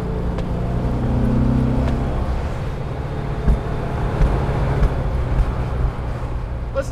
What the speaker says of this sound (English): Listen to those backfires.